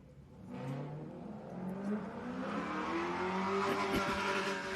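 A race car on a Pines Enduro course approaches and passes, its engine rising in pitch and growing louder over a few seconds, fairly distant and without talk.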